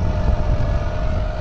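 A Deutz-Fahr Agrolux 80 HP tractor pulls a 13-tine cultivator through a field in Punjab, its engine giving a loud, steady low drone with no break.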